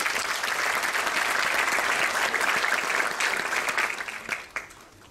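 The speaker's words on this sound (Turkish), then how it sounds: "Kendisini alkışlıyorum." An audience applauds a mathematics faculty member at a university academic-year opening ceremony; dense, sustained clapping from a crowded hall that thins and fades out over the last second.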